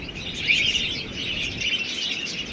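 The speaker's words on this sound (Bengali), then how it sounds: "অনেক পাখি আছে এখানে" Many birds chirp and tweet continuously at a seaside hotel, a dense, steady chorus of high calls filling the air with no voices.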